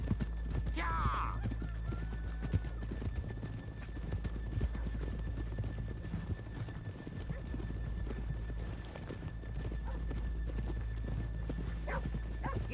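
Rhythmic clip-clop of hooves trots steadily throughout in the video game Red Dead Redemption 2, with a horse whinnying near the start, over a constant low background hum.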